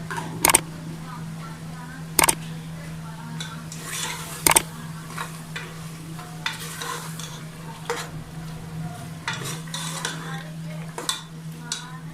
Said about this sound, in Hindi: इसमें हम बोनलेस चिकन ऐड कर देंगे और इसको अच्छी तरह पकाएंगे।